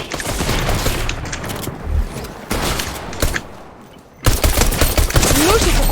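Pistol gunshots from a video game crack out in loud, repeated bursts over dense in-game action and background noise, with a sharp burst near the end.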